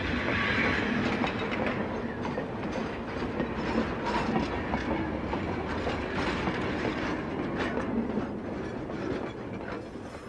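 A train rumbles steadily along the tracks, wheels clattering in a dense, continuous roar, loud and close for the whole stretch.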